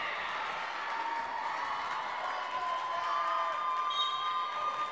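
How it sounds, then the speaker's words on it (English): Hometown Nashoba crowd cheering and clapping on the sidelines during a Milford–Nashoba girls' high school volleyball tournament quarter-final, a steady roar of voices in a gym that stays loud throughout with no single voice standing out. "this gets the hometown Nashoba crowd up and cheering on the sidelines"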